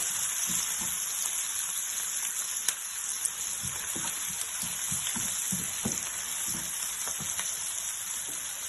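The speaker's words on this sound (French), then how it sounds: "ici, je suis en train de rissonner les 2 oignons" Two onions sautéing in a pan for a whole-wheat couscous tabbouleh, a steady dense sizzle running throughout with faint scattered pops, close and even in level.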